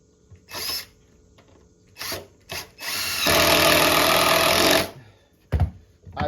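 A power drill bores into composite decking for a homemade screened bottom board, a loud sustained whir of about two seconds, framed by short bursts of handling and tool noise.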